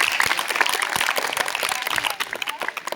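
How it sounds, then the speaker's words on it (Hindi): An audience applauds at a school annual function, with a steady crowd of claps that thins into scattered individual claps toward the end, and voices mixed in underneath. "उसके लिए आप एक बार जोरदार ताली बजा सकते हैं"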